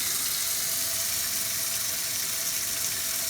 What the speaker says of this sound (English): fill it with the hot water, hot tap water